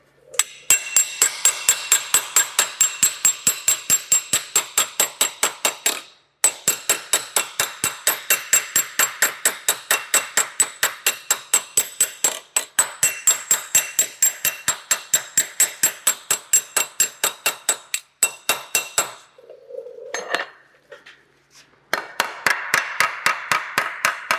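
Rapid, steady hammer blows with the flat end of a curved hammer on rusty metal ring out in long runs, sharp and loud with a clanking edge, pausing briefly before resuming the fast banging.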